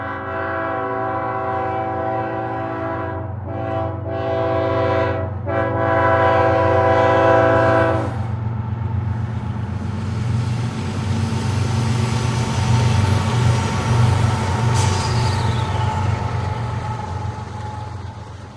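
A BNSF Super Bowl Special train sounds a loud, sustained multi-note horn as it approaches West Riverside, then rumbles past with heavy rail noise and a brief high squeal.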